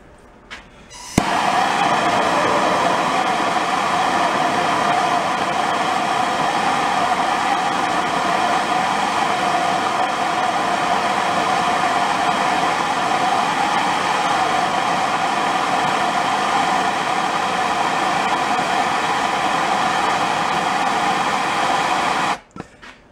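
A torch roars steadily, heating sheet metal for a handmade gas tank on an engine-assisted bike; a loud continuous broadband rush that starts abruptly and holds evenly for about twenty seconds before cutting off.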